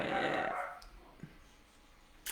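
A dog lets out a loud, rough bark right at the start, then the room falls mostly quiet with a few faint knocks.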